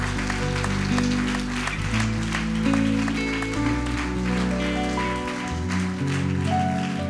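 A church congregation applauds the Lord, a steady sustained clapping from a large crowd with an organ or keyboard chords playing underneath throughout.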